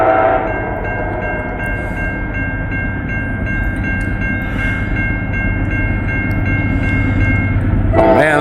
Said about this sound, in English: We got a northbound Norfolk Southern.